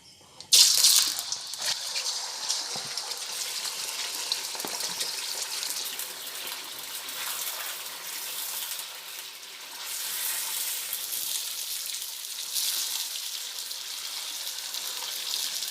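Raw chicken pieces, 1.5 kilograms, drop into hot oil in a pan for chicken karahi, bursting into a loud, steady hiss and crackle right after the splash and continuing unbroken, close up.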